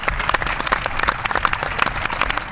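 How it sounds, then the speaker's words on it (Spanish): Loud, dense applause from an audience, many hands clapping together steadily throughout, close and sustained. "un aplauso enorme para Rafa Casete"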